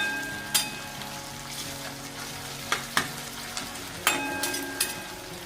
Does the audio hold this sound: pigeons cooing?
no